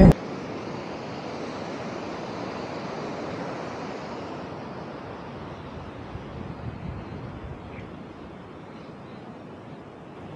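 Water and waves at the Brooms Head waterway in a light breeze, a soft, steady wash of surf with some wind rumble on the microphone. It starts slightly louder, then settles to a gentler hiss.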